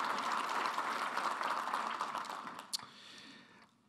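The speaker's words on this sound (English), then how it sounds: "Please give him a round of applause for the excellent work he's doing for us." Audience applause after a speaker's introduction of a federal transportation administrator at a keynote, sustained dense clapping from a crowd that fades out toward the end, with a single sharp clap near the close.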